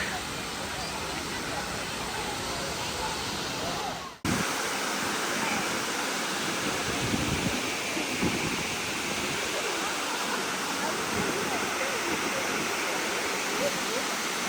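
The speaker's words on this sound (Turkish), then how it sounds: "O ilk gösterdiğimiz en büyük şelaleydi." The largest waterfall along a hiking trail near Erfelek, a loud continuous rushing roar of falling water, heard close up, with a brief dropout partway through.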